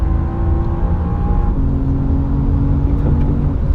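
An all-new BMW CSL at full throttle on a Nordschleife record lap, its engine loud and close with rising revs and a brief shift dip before pulling hard again.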